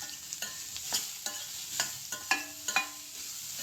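Chopped beetroot stirred in a pan for Kerala-style beetroot thoran, with onion, salt and turmeric: repeated scraping stir strokes over a soft sizzle, close and fairly quiet, no talk.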